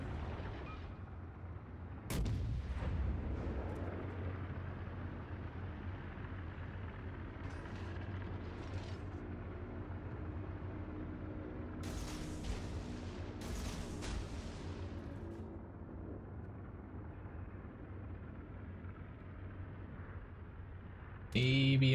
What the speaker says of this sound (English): Take that, my two little dinky guns.